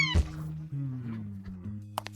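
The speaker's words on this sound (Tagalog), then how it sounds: "anong ganda ng kuting" A kitten meows in a few drawn-out, rising and falling cries, close and fairly clear, with voices talking around it and a couple of short clicks near the end.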